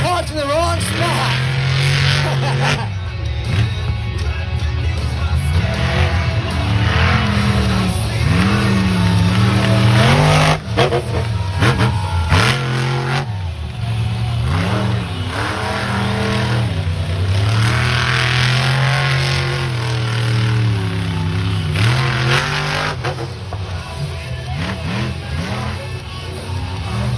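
Monster truck engines rev loudly at a beach show in Wildwood, New Jersey, a sustained throaty roar that surges and dips throughout, with crowd and announcer sound mixed underneath.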